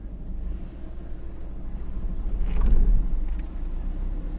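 A car engine pulls away during a hill start on a slope, a steady low idle rumble rising briefly louder near the middle as the clutch engages and throttle comes in, then settling back, with no talking.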